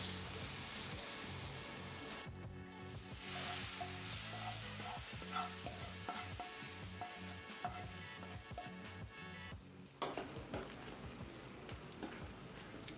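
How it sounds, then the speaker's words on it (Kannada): Roasted semolina mix being stirred into hot ghee in a pan for ash gourd Kashi halwa, giving a dense continuous sizzle with scraping strokes that thin out and quieten near the end, heard alone without talk. "ಹುರಿದಿರೋ ರವೆನ ಮಿಕ್ಸ್ ಸೇರಿಸ್ಕೊಳ್ಳೋಣ"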